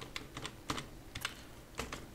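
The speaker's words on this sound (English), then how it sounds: "Now you have to type a command sfc" Keys clatter on a computer keyboard as a system command is typed on a Windows PC, a handful of quiet, close clicks arriving in small irregular bursts with short pauses between them and no voices.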